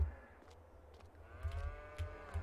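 Calves moo inside an arched cow shed on a dairy farm, several soft, low calls rising and falling in quick succession, fairly faint with a hollow, roomy background.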